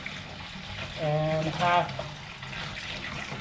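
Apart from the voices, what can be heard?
water pouring into brew pot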